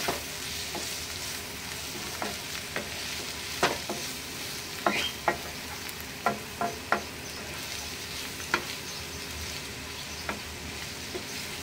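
Oysters sizzling in a pan with turmeric and garam masala as a utensil stirs them, a steady frying hiss broken by irregular scraping clicks, close and moderately quiet with no talk.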